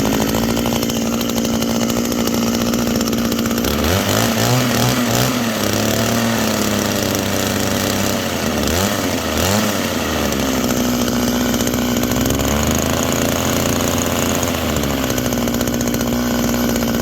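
Freshly oiled small gas hedge trimmer engine running loud and close, a steady buzzing drone that rises and falls as the throttle is revved several times.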